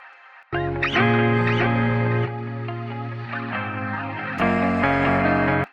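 A bright, harmonically rich synth sound shaped by the sweeping filter module of the Baby Audio Transit plugin, its tone audibly shifting and darkening as the sustained notes play, then stopping sharply.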